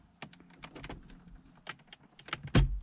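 A dashboard trim panel around the radio in a 2015+ Subaru WRX is tapped at the corner with several sharp clicks and knocks, then a louder single snap as the clip releases and the panel pops free, close up with no talk.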